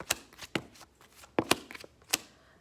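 Tarot cards shuffled loosely and allowed to slip from the hand, giving several sharp, separate papery flicks and riffles at uneven intervals, close and fairly quiet, with no talk.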